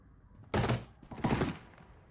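Two loud bursts of blaster gunfire from Star Wars The Old Republic, each lasting about half a second, with a short gap between them and no talk.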